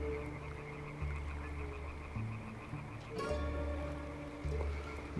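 Frogs croak in a forest area of the Van Helsing action role-playing game, a dense chorus of low repeated croaks that swells and fades, with a brief brighter burst midway and no talk.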